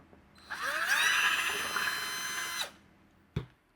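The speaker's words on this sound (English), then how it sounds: "Now we just drill the holes." A power drill bores holes in DIY Rubicon bumper closeout panels, whining up to a steady high pitch for about two seconds before stopping. A sharp clack follows a moment later.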